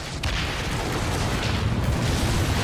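Cannon fire from a pirate ship in the Skull and Bones video game, a sustained loud rumbling boom with overlapping blasts, heavy and close over the sea.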